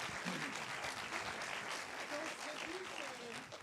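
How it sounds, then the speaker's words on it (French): Cinema screening audience applauding a guest, a steady dense wash of clapping throughout with faint voices mixed in underneath. "Oui, vous pouvez l'applaudir, évidemment."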